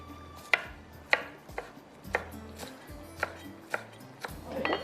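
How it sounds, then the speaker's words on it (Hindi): A knife finely chops fresh coriander on a board, giving sharp, close knocks roughly every half second against a quiet background hum, with no talking. "हरा धनिया है, इसको मैंने ब्लेंडर में नहीं डाला, इसको मैं थोड़ा सा बारीक चॉप करके डालूंगी"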